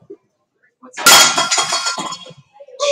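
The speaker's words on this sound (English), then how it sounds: "It's like a broken glass." A sharp, bright crash like glass breaking bursts out loudly and close, followed by scattered tinkling debris settling over a couple of seconds, with brief faint noises before and after.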